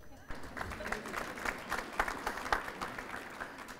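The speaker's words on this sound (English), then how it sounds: "You can applaud that." An audience claps steadily for a few seconds at a grand opening ceremony, individual claps audible within the moderate, fairly close applause.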